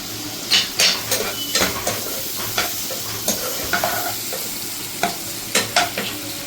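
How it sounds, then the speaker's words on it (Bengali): Chopped green chilli and tomato fry in a pan, with a steady sizzle broken by repeated close scrapes and taps of a spoon stirring against the pan. "সবগুলো এইভাবে ফ্রাই হতে থাক"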